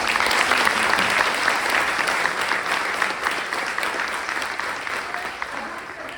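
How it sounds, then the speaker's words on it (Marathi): Loud audience applause for Bhide madam at a gathering, many hands clapping densely from the start and slowly tapering in volume, with a voice faintly beneath the clapping. "सर्वांनी भिडे मॅडमसाठी एकदा जोरदार टाळ्या वाजवा"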